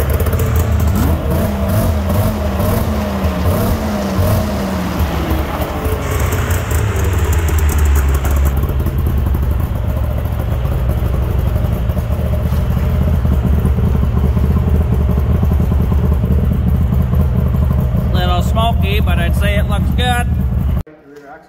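A Yamaha V-Max 700 snowmobile engine runs steadily and loudly after maintenance, its idle and revving lasting until it cuts off abruptly near the end, with a voice talking over it early on.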